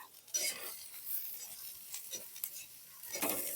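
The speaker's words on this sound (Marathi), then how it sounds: "कांदे ज्यावेळेस आपण भाजतो ना त्यावेळेस थोडस तेल टाकून घेऊ थोडस तेल टाकून घेऊ आणि मस्त भाजल्या जातात" Onions roasting in a little oil in a pan, giving a faint, soft sizzle with a few light stirring scrapes, heard close and quiet with no talk.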